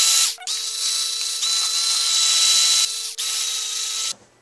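A power drill whines steadily as it bores into a blank DVD, running loud and continuous for about four seconds with two brief stops before cutting out.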